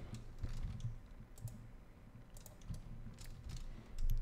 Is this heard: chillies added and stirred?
no